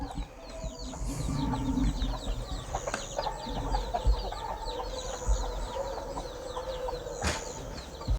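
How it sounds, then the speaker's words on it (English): Chickens and young chicks clucking steadily in a farm holding pen, with several overlapping calls, occasional louder squawks and brief wing flaps, close by and continuous with no talking. "We got more chicks over here in the nest."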